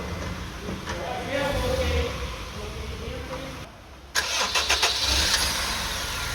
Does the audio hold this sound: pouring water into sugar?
no